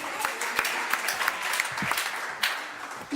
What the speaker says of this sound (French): Madame Zainabou, on l'applaudit.